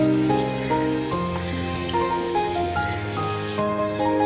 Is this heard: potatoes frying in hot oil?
yes